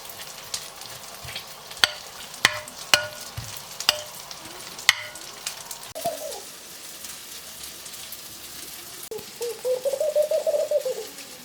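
Eggplant fries in a pan with a steady low sizzle, broken early by a few sharp clicks of utensils, while a dove coos nearby toward the end.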